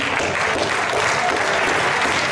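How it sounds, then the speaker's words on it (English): Audience applause at a DXN ambassador event, a dense, steady roar of many hands clapping, loud and continuous throughout with no voices standing out. "Give yourself a very, very, very big round of applause, ladies and gentlemen."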